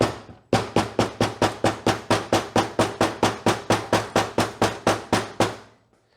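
A hammer taps a bushing onto a rear axle with around twenty quick, evenly spaced metallic knocks, close and sharp, each ringing briefly before the next, ending in a short fade.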